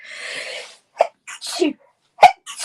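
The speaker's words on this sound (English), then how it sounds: "I think I'm going to sneeze." A loud, close sneeze bursts out after a short breathy buildup, followed by a brief sniff or gasp.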